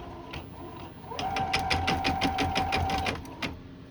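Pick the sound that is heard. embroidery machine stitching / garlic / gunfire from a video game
embroidery machine stitching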